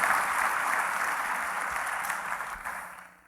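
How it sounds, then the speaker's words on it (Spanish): Church congregation applauding at a worship event, a full wash of many hands clapping at once, fairly close, tapering off near the end. "Póngale un buen aplauso a la palabra de Dios, a la palabra del Señor, al evento."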